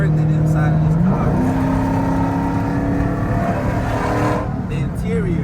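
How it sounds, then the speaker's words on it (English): A Dodge Charger R/T's engine roars up close as the driver downshifts, the revs jumping sharply to a higher, steady growl, then easing back down near the end. "Listen to the downshift, listen to the downshift."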